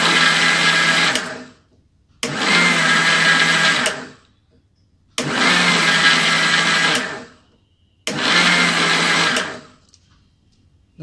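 Mixer grinder grinding sugar, milk powder and cocoa powder, four loud bursts of whirring motor noise, each about two seconds long, separated by short silent pauses.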